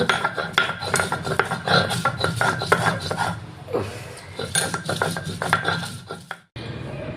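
Onion being ground on a traditional grinding stone, a steady rasping scrape of stone over stone in repeated back-and-forth strokes, close and fairly loud, pausing briefly near the end.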